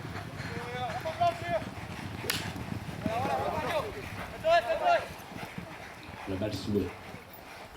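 Polo horses gallop across the field at a seaside match, their hoofbeats a soft, irregular thudding beneath steady French sports commentary.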